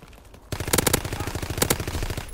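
Rapid automatic gunfire in a World War II shooter game, two quick bursts of sharp, closely spaced shots ringing out loud and near over a busy background.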